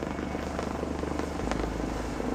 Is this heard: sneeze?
no